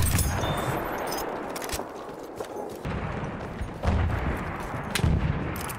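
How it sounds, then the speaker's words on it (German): Enemy machine gun fire rattles in a dense, noisy wash of battle, with scattered sharp cracks and bursts over a constant rumbling din and no talk. "Feindliches Maschinengewehr!"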